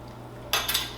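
A utensil scrapes and clinks against a mixing bowl as cocoa powder is stirred by hand into pound cake batter, with two quick bright strokes after a quiet moment.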